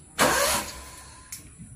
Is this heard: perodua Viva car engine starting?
yes